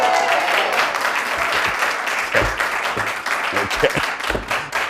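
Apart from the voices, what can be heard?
studio audience applause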